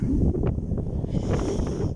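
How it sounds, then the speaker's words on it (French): Wind buffets a phone microphone, an Honor 8X, during a car drive, producing a steady, loud, low rumbling roar throughout with no voices. "Vous voyez le vent."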